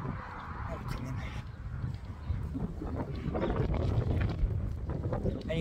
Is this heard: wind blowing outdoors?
yes